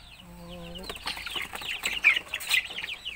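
Young chicks and chickens at a native chicken farm make busy, high chirping and clucking calls, close and irregular, with a brief tonal voice-like sound at the start.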